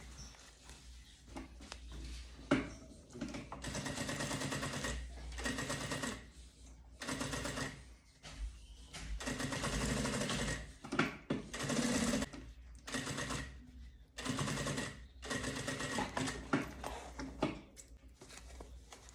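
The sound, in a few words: sewing machine stitching fabric along a marked line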